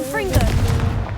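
In the Hogwarts Legacy video game, the Confringo fire spell sets off a loud, close blast: a short explosive burst with a roaring, crackling tail lasting about a second.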